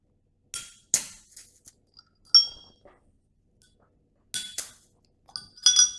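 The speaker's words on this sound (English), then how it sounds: "let's get these open and poured into a glass." Beer bottles are opened and poured into nucleated glasses, heard as scattered sharp glass clinks and taps, several separate bright knocks spread over a few seconds in a quiet room, close and fairly soft.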